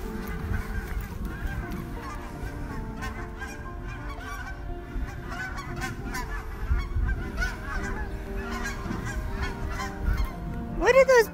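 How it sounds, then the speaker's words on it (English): Geese honking outdoors in a noisy flock, a dense run of overlapping honks throughout at middle distance, growing louder toward the end, with faint talk in the background. "What are those birds doing?"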